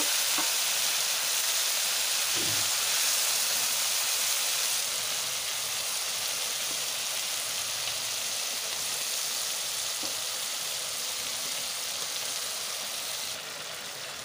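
Marinated prawns deep frying in hot oil for a Kerala-style prawn roast, a steady soft sizzle that runs the whole time with a few faint clinks and no voices.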